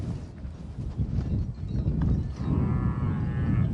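Cattle lowing nearby at a salt lake in Kenya, a few deep moos over a shuffling, rustling background, no talk.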